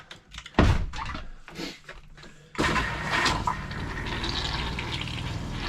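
Pink RV antifreeze gushing and splashing into an RV toilet bowl, a few short pours followed by a sustained rushing flow, close and fairly loud.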